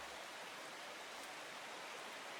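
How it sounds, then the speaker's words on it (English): Rain falling in the video game Strange Horticulture, a soft, even hiss of steady rainfall with no distinct drops, very faint and continuous throughout, with no speech. "Back to the rain, I see."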